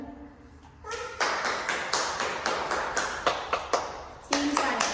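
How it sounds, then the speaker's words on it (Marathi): Hands clap at a temple in Shirdi, a run of sharp, close claps in a fairly even rhythm, roughly a dozen over a few seconds, with people talking around them. "टाळ्या वाजवायच्या ना."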